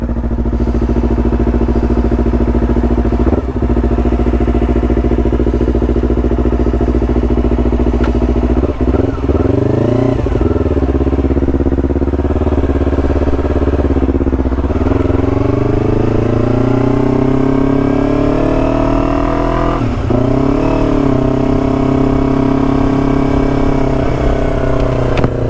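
A Yamaha YZF R3 300cc sports bike runs loud and close, its engine note rising and falling through gears as it accelerates, with a rough, buzzing tone throughout.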